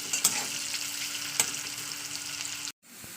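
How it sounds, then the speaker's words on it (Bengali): Onions and potatoes fry in oil in a home kitchen, producing a steady moderate sizzle with a couple of sharp utensil clicks before a sudden cut. "পেঁয়াজটা আমার লালে লালে করে ভাজা হয়ে গেছে। এর উপরে আমি এবার যে আলুটাকে কেটে রেখেছি সেই আলুটাকে দিয়ে দেবো।"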